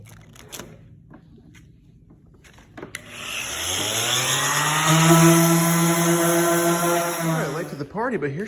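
A power sander with 120 grit starts up after a few quiet knocks and runs as a loud, steady whine on a wood countertop, tapering near the end.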